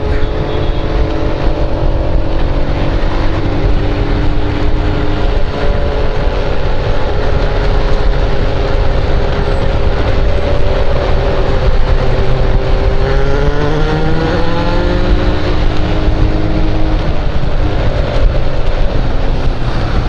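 A loud, rumbling vehicle pass heard from a motorcycle on a busy Brazilian road, a heavy engine drone and wind roar that holds steady, with a shifting pitch as a truck goes by.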